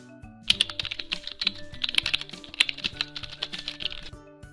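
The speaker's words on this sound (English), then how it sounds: "Let me type my name." Fingers typing a name on a computer keyboard, a quick run of crisp, close key clicks in uneven bursts with no voices, followed by a short pause near the end.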